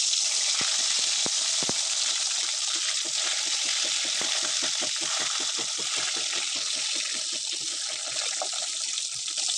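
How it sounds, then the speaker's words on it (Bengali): Eggplant pieces frying in mustard oil in a home kitchen, giving a steady, close hiss with rapid crackling pops throughout and a few sharper spits near the start. "এবার আমি সরষের তেল দিয়ে বেগুনগুলো ভেজে নেব।"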